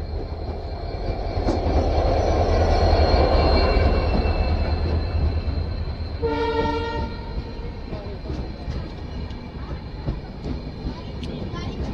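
Kanchankanya Express train at a station, a loud steady rumble of the stationary or slow train swelling over the first few seconds, with a brief tonal horn-like blast around the middle and ongoing platform noise.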